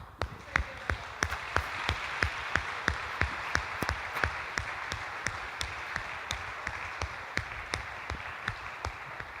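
Slow, evenly spaced claps from a single person or small group during a Catholic sermon, each sharp strike clear over a low murmur of room noise.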